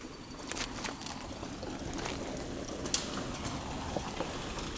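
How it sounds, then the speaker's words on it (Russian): Rain falls steadily in the taiga, a soft, constant hiss with scattered faint drips and taps, even in level and without talk. "Нет, дождь пошел."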